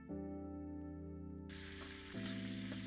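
Whole cumin seeds and asafoetida hit a large spoonful of hot oil for tempering a bitter gourd dish. A steady tonal hum gives way to a sudden, loud, continuous sizzle that fills the rest of the moment.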